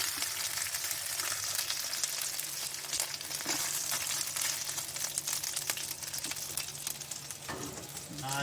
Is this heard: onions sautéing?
yes